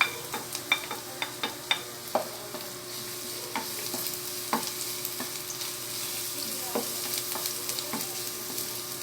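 Onions sizzling in hot oil in a pan for creamed mongo beans, a steady frying hiss with a cluster of sharp pops and stirring scrapes early on, close up with no talk.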